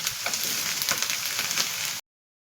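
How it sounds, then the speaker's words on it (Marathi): Onion frying in a pan while browning for a dry chicken dish, a dense close sizzle with light crackles that runs for two seconds, cuts to brief silence, then returns. "कांदा आपल्याला गुलाबी होईपर्यंत भाजून घ्यायचा आहे"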